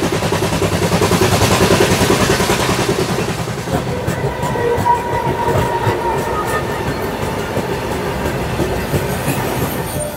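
The Howrah–Haridwar Doon Express train rumbles loudly along the tracks, with a steady rhythmic clatter of wheels heard from inside the carriage.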